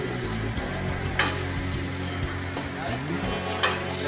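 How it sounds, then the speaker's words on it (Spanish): Caramelized onion and curry rice sautéing in oil in a frying pan at a restaurant kitchen, a dense continuous sizzle with a few brief clinks of utensils, up close. "Entonces lo que vamos a hacer es saltearlos un poco."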